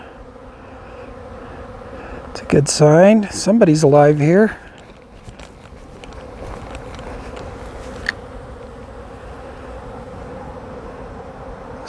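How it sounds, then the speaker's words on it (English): Honeybees buzz steadily around hives outdoors while a person speaks over them, the hum staying constant and fairly close throughout. "I got bees flying all over the place."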